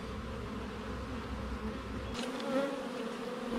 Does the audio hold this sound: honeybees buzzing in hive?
yes